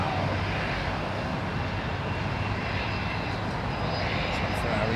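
A jet aircraft powering up and taking off at London Heathrow Airport gives a steady, loud broadband engine roar that holds at the same level throughout, with a low rumble underneath and no talk.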